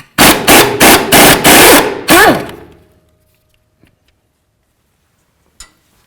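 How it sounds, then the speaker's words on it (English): A 17 mm wrench works the front sway bar link nut on a 2005–2015 Toyota Tacoma, giving a quick burst of five or six sharp ratcheting clacks that stop abruptly, followed by near silence broken by two faint, isolated clicks. "Now we're going to remove the nut using a 17 millimeter"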